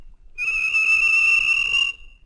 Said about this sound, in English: the whistle blew